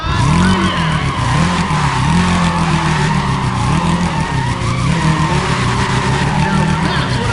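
Race car engines roar continuously in the Need for Speed ProStreet racing game, a loud steady engine drone with rising and falling pitch and tire squeal mixed in, while commentary talk runs over it.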